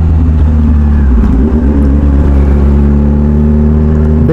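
Kawasaki ZX10R superbike idling close by, a loud deep steady engine rumble with a slight rev partway through, with no talk over it.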